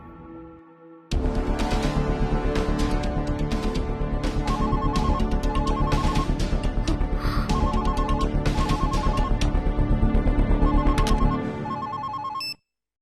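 A phone ringtone plays loudly and steadily for about ten seconds in a Tamil TV serial scene, a repeating electronic melody with no voices over it, then cuts off abruptly.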